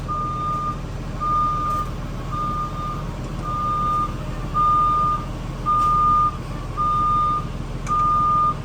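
A school bus's reversing alarm beeps steadily, evenly spaced tones repeating over a low idling engine rumble.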